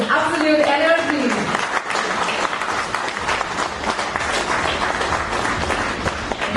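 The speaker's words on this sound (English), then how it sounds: "put your hands together for our beloved CEO representing the SEIL, Shri Jagmeji Mahapatra Garu" An audience at the SEIL C&I Connect 2026 corporate event applauds to welcome the CEO, with a brief tonal voice or music at the start before steady, full clapping fills the rest.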